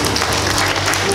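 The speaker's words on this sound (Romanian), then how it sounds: "Mulțumim prietenilor noștri pentru această frumoasă surpriză și îi petrecem cu aplauze." Guests at a wedding celebration applaud the bride and groom, a loud, dense burst of close clapping filling the whole moment.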